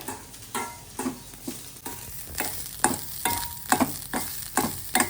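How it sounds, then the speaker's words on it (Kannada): Grated coconut frying and being stirred in a pan, a steady sizzle under repeated scraping strokes of a spoon that land roughly every half second, close and clear with no talking. "ಇದಕ್ಕೇನೆ ಕಾಯಿ ಹಾಕ್ಕೊಂಡು ಕಾಯಿನೂ ಫ್ರೈ ಮಾಡ್ಕೊಳ್ತೀನಿ."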